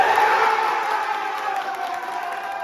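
A crowd cheers and shouts at an awards show (GFL Awards 2024), a dense, steady roar of voices that stays loud throughout and eases slightly toward the end.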